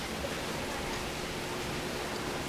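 Steady, even hiss of rain falling, a dense wash of noise with no breaks and no talking.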